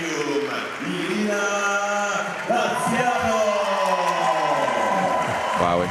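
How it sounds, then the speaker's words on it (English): Crowd at the Genova Porto Antico bouldering European Cup women's semifinal cheering and whooping for an Italian climber, a broad roar under a voice talking over it, rising louder partway through. "Wow, incredible reaction from the crowd here in Italy,"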